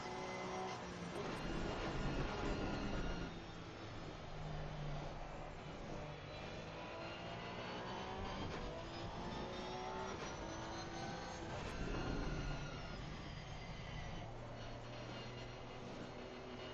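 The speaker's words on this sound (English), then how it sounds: "It's just the whine of that Porsche." A Porsche race car engine in the Assetto Corsa Competizione racing game at Zolder, a steady, loud, high mechanical whine with rising and falling pitch, running continuously with no talk.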